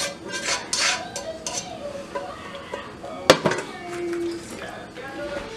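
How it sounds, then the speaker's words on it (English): Chicken curry being spread over a layer of rice in a pot for biryani, with scattered metal spoon scrapes and clinks against the pot, one sharp clank partway through, under intermittent talk. "I'm going to put this on top on the rice. I'm going to spread it around."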